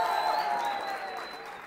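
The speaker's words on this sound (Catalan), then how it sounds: "També un aplaudiment molt fort" Applause from a studio audience for a school team, Les Aimerigues de Terrassa, on a Terrassa TV quiz show; steady, moderately loud clapping with a sustained tone underneath, tapering slightly toward the end.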